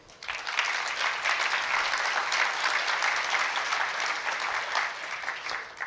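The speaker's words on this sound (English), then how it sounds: "A brief round of applause for John Zeidan." A brief round of applause at a lifetime achievement awards ceremony. Dense, steady clapping rises quickly and is sustained by a sizable audience throughout.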